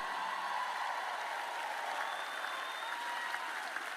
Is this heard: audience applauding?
yes